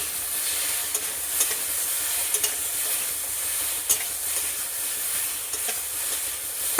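Ginger frying in a pan for a drumstick fish curry, a constant bright sizzle up close with scattered stirring clicks and scrapes.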